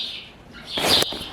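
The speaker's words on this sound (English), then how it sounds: "Having a bird fight up there" Birds fighting overhead near a Jeep XJ project, with a quick burst of chirps and fluttering, flapping wings that peaks sharply and then stops, short and fairly close.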